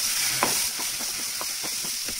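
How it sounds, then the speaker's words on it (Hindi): Gram flour and lentils roast in a hot pan with a steady dry sizzle, broken by a series of soft, evenly spaced scraping strokes as they are stirred, close by and without voices. "अब इसमें हम दाल डालकर दाल के साथ भूनेंगे।"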